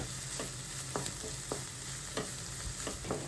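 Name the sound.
stirring chopped cabbage in a frying pan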